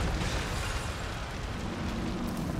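A bomb explosion in the Marvel's Spider-Man video game rumbles as a sustained, dense roar, loud and steady throughout with no clear individual blasts.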